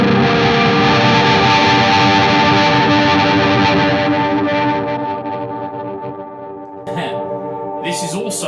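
A heavily processed electric guitar through a multi-effects unit on its Super Wet tone, with thick chorus, echo and distortion, ringing loud and sustained before decaying, then a few fresh struck notes near the end.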